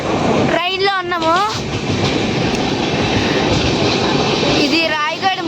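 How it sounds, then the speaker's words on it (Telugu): Steady broadband rumble of a moving train carriage on the way to Rayagada, loud and continuous, with voices talking over it throughout. "చూడండి ట్రైన్లో ఉన్నాము."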